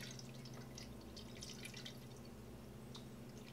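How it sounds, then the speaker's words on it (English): Fermenting juice is poured slowly and carefully, a soft steady trickle with scattered faint drips over a constant low hum, without any talk. "I'm pouring very carefully so as to not agitate or oxygenate."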